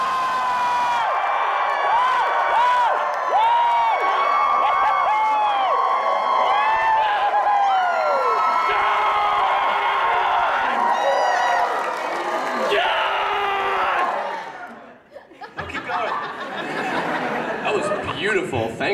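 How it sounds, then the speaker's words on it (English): Convention audience at Kami Con 2013 cheering, whooping and shouting together in a loud, sustained roar that drops out abruptly near the end before scattered crowd noise resumes. "the cheering that you did before, that is what I want. So let's do that again"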